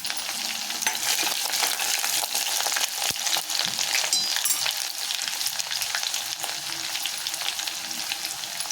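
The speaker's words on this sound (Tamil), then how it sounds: "பூண்டு வதங்கட்டும்." Crushed garlic cloves, about ten, sautéing in a pan for a chayote kootu, giving a steady, continuous frying sizzle with occasional stirring scrapes, close and fairly loud throughout with no talking.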